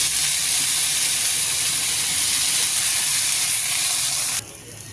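Hot pan hissing loudly and steadily as broth made from Coke is poured in over a strong flame, a broad sizzling wash that holds nearly five seconds before dropping off abruptly at the end.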